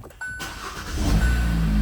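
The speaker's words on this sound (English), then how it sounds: "First, we got to fire the car up." A 2019 Hyundai Tucson SE is started after a battery replacement: a chime, then the engine cranks and catches into a steady, rising idle close by.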